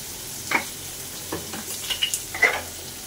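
Bitter gourd and onion frying in a pan with salt, stirred in a few brief scraping strokes over a soft sizzle, close and fairly quiet.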